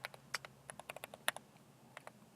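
Crisp keystrokes on a computer keyboard in a typing tutor, a quick irregular run of separate close clicks with brief pauses, alone in a quiet room.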